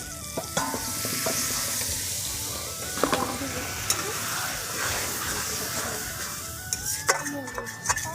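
A chili, cumin and coriander spice paste mixed with water sizzles and fries in hot oil in a pan for aloo dum, with steady hissing, occasional stirring scrapes and a few clinks.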